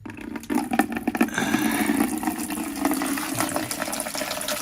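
Water running out of 40-gallon rain barrels in a greenhouse, a steady rushing and splashing fill stream, moderately loud and close, with a few brief knocks and clunks early on and no talking.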